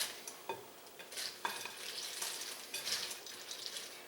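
Chex Mix being stirred with a silicone spatula, a soft continuous rustle and scrape of dry cereal pieces with a few louder clicks, close and steady without speech.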